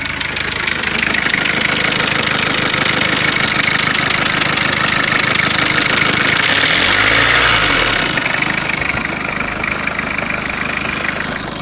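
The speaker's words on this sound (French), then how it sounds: "Bon là les culbuteurs on les entend bien." A Citroën XM TD 2.1 diesel engine idles with a steady, loud clatter of rocker arms, a rapid metallic ticking running throughout over the engine's rumble, heard up close with no talk.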